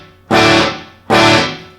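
Two loud, distorted slide guitar strums played through a Chicago-style amp simulation without spring reverb, each chord ringing and sustaining, then fading before the next hits, with no voices.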